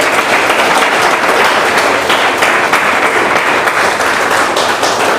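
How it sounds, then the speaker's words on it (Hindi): A large audience at a direct-selling business training applauds loudly and continuously, a thick, even wash of clapping with no pauses. "परम पिता परमेश्वर के लिए ताली बजा दीजिए"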